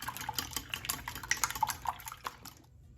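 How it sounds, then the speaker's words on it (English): A little water poured into a bowl of whisked eggs, a soft, close, trickling splash lasting a couple of seconds with small drips, then quiet. "I'm also going to add a little bit of water."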